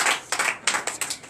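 A church congregation claps during a night prayer service, with a few close, loud bursts of hand clapping in uneven rhythm and no talk over them.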